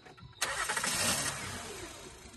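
A car engine cranks and catches while being started on a street at night, a sharp burst into a roaring rev that settles and fades toward a rough idle, close and loud with no talk.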